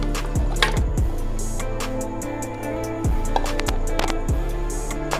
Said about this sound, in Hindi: इसमें हमने गोश्त डाल देंगे।